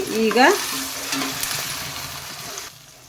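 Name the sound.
mashed tomatoes frying and being stirred in a pan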